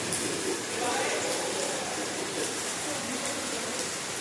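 Dense, heavy rain falls in a steady roaring hiss throughout, close and loud, with a voice speaking faintly beneath the downpour.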